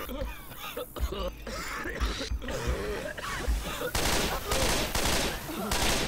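Rapid gunfire from the Left 4 Dead 2 Dark Carnival campaign in Realism Versus mode crackles in bursts, with louder automatic fire in the final seconds, while players talk over it.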